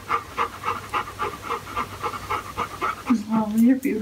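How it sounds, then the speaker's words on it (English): A dog pants in quick, regular, close breaths throughout, followed by a person's voice speaking near the end. "Sweet doggy."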